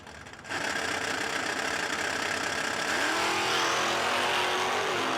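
Drag race cars launch side by side at the No Delay Nationals: loud engines roar up suddenly, then hold a dense, rising howl as they accelerate down the strip.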